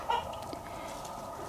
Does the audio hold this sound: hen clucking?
yes